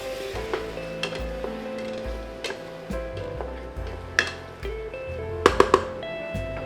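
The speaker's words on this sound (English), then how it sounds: "I will put in all of that cooking wine" Cooking wine deglazes a hot pan for Taiwanese beef noodle soup, a soft sizzle running under clinks and scrapes of a utensil against the pan, with a few sharper knocks near the end.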